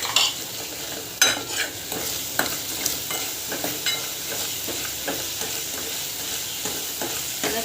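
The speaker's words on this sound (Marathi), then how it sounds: "छान असं परतून घ्यायचं आहे" Spices with salt and ground black pepper sautéed in a pan for a street-style soup, heard as a steady sizzle with repeated scraping stirs of a spoon, close and alone.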